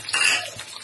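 Small onions (shallots) drop into hot oil already holding popped mustard seeds, for a Malabar coconut milk chicken curry; a brief, loud hissing burst of sizzle fades quickly.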